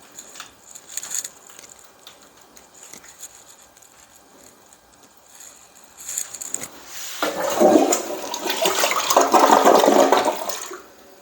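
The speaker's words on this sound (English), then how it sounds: "So I just flushed the toilet to let the water run down." A toilet flushes close by, starting with faint clicks and trickling before a loud rushing surge of water swells and then continues, with no talking.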